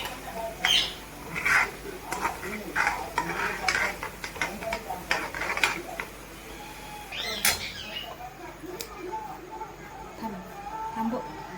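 Kothimbir Vadi mixture with sesame seeds being stirred in a bowl, giving repeated scraping and mixing strokes at close range with a few clinks, while a voice talks quietly in the background.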